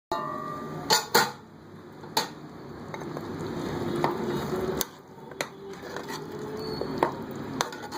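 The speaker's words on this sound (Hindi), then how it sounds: "थोड़ी थोड़ी देर में इसमें चमचा चलाते हैं।" A ladle scrapes and knocks against a pot of cooking daliya porridge in irregular strokes, with soft bubbling and clinks in between, close by and without talk.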